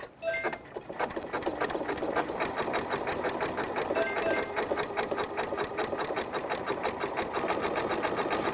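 Sewing machine stitching a pillow appliqué, a fast, even needle rhythm running steadily and close after a brief start, with a faint mechanical rattle underneath.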